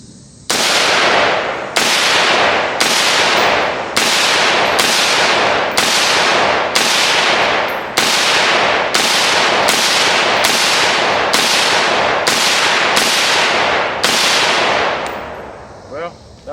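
An AR-15 rifle fitted with a Fox Army FXH50 red dot fires outdoors, about fifteen loud, close cracking shots in a steady, fairly quick cadence, each with a brief ringing decay.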